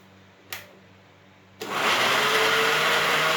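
A click, then a blender blending jerk seasoning whirs to life and runs loudly and steadily, its motor whine constant for the remaining seconds.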